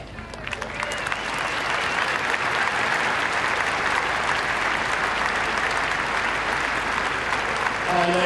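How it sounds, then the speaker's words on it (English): A large crowd at the Badminton Horse Trials eventing competition breaks into loud, sustained applause that swells within the first second and holds steady, dense and even, to the end. "let's have a real round of applause, a real big one for all the groups."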